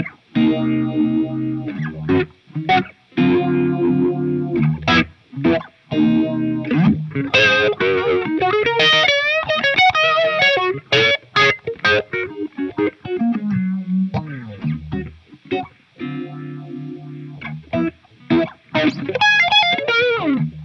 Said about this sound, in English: Now let's hear the pseudo Leslie setting.